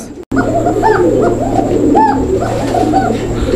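Black short-faced pigeons coo repeatedly up close, rolling throaty calls over a steady hum of room noise.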